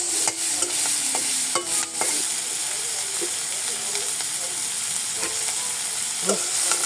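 Lentil dumplings (bori) and fish frying together in a pan with green chilies, a steady close sizzle and hiss with spatula scrapes and knocks, especially in the first seconds.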